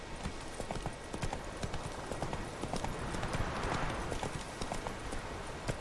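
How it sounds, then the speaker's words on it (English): Horse hooves clip-clop in a steady trotting rhythm under ambient game sound in The Witcher 3, continuous and fairly close throughout, with no talk over it. "Don't trust the GPS, Roach."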